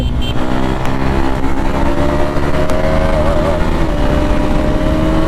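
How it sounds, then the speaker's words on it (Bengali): A motorcycle ridden hard on a road, its engine droning loud and close with rising and shifting pitch as it revs, continuous throughout with no talk. "ভাই এই রাস্তায় এখন অ্যাগ্রেসিভ মোডে ভাই বাইক চালানো শুরু হয়ে গেছে"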